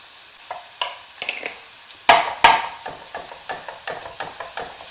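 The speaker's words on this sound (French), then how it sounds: "je continue à émietter la viande et la mélanger jusqu'à ce que j'obtienne une viande bien colorée" Ground beef with chopped parsley sizzling in a pan as it is crumbled and stirred: a soft, steady frying hiss broken by irregular sharp scrapes and clacks of the utensil against the pan, close and clear, without voices.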